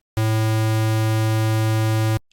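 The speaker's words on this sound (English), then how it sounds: "Here we can compare the sound of a square wave that sounds like this" A steady, buzzy synthesizer square wave tone holds one pitch for about two seconds, loud and constant, then cuts off abruptly.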